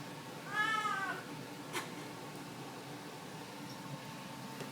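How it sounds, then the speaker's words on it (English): A house cat gives one clear, fairly close meow, followed by a faint short chirp, against steady low background hiss and fan-like noise, with no talking. "When did you start meowing whenever you brought it back"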